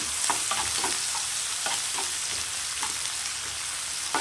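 Onions sizzle steadily in a hot pan for egg curry while a utensil scrapes and stirs at irregular intervals, close up and without any talking.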